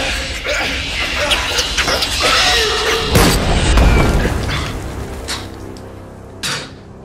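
Gunshot in a short film: a heavy boom partway through, after a tense mix of clattering and shouting, followed by rumbling debris and scattered clanks.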